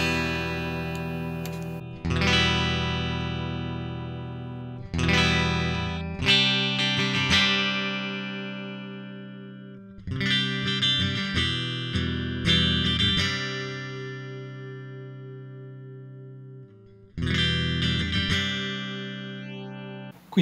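Guitar played through the Blue Cat Audio Axiom 1.32 effects plugin on its piezo pickup setting: several loud strummed chords that ring out and decay, separated by short pauses, with no talk.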